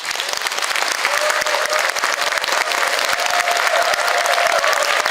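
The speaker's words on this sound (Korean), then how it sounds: "박수로 환영해주십시오." An audience in a large conference hall at the National Assembly Members' Office Building applauds to welcome a lawmaker, a loud, even, sustained clapping that swells slightly and continues throughout.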